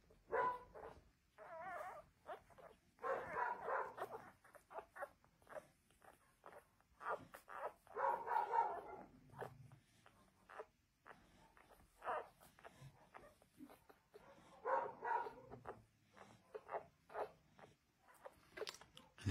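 Newborn shelter puppies whimper and squeak in short, scattered bursts as they wake to nurse, soft and close with quiet gaps between.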